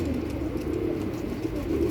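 Pigeons coo inside a loft, a continuous low throaty cooing from several birds close by, steady and fairly quiet with no talk.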